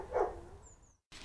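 A single dog bark sounds close and fairly loud near the start, then fades into a quiet background that drops briefly to silence before a soft hiss returns.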